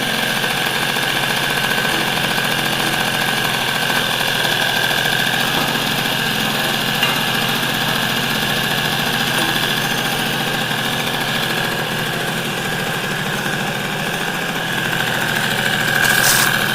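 A Motobécane 103 SPX-R moped engine idles and revs at a steady, fairly loud drone, close by and unbroken, with no speech over it.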